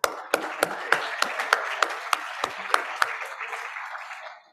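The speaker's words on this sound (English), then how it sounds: "let's give a big round of applause for our birthdays" A small meeting audience claps for birthdays: a short, sparse burst of distinct individual claps, fairly close and moderately loud, fading out after about four seconds.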